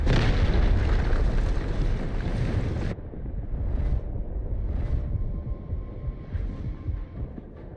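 Guided missiles launching and exploding in a video game battle, a dense loud roar cutting off abruptly, followed by several dull distant booms pulsing through a lower rumble.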